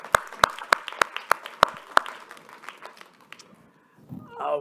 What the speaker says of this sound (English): Another round of applause for Serene, Eli, and Kunle.